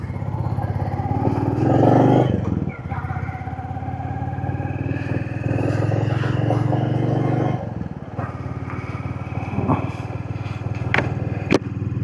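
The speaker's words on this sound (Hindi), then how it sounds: "बाइक कोल्ड स्टार्ट हो गई है।" A motorbike engine runs after a cold start on a rainy mountain morning, a loud, steady thrumming idle with occasional small revs and clicks.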